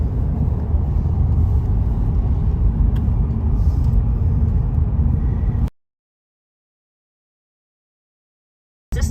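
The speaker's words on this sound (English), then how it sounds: "Yeah, we're driving a hybrid vehicle, exactly." A Ford Fusion hybrid with EcoBoost rolling along a road between New York City and New England, giving a continuous loud low rumble of tyres and engine that cuts off abruptly midway, then returns at the very end.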